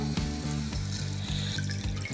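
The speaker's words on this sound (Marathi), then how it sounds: "यामध्ये घालूयात पाणी" Water splashes and gurgles steadily as hot water is poured into a hot pan of sandgyachi bhaji curry, with a faint sizzle underneath and a pulsing low hum throughout.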